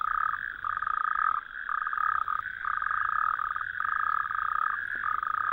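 Several frogs croak in a continuous, pulsing chorus at night, their calls overlapping with brief gaps, close and fairly loud, with no voices.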